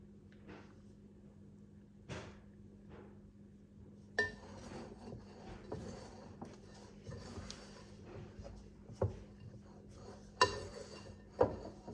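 Sourdough dough being mixed in a bowl: a quiet run of scattered knocks and clinks with soft sticky scraping in between, close by and without talk.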